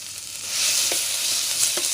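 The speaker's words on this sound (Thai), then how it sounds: "หลังจากนั้นก็ใส่เนื้อไก่ลงไปเลยนะครับ" Chicken meat stir-fries in a hot pan for ginger chicken, producing a constant bright sizzle with a couple of faint utensil taps, close by and brief.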